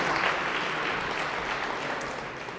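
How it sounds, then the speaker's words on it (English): Audience applause at a startup pitch competition, a steady, dense roar of clapping throughout that slowly eases toward the end. "huge round of applause for PowerUp Hydrogen Fuel Cell"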